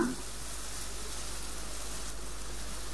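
Onions lightly fried with a spoonful of ginger paste just added give a steady, even sizzle in the pan, moderately loud and continuous throughout with no talking.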